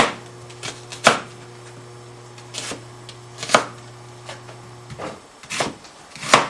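A knife cuts a medium onion into long strips on a cutting board, giving a few sharp, separate chopping knocks spaced unevenly, close and fairly clear, with a faint steady hum behind and no talking.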